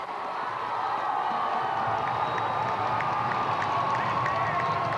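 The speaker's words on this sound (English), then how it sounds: "Great crowd on hand." A large football crowd at a state championship high school game roars and cheers continuously, a dense, loud wall of voices with whoops rising above it throughout.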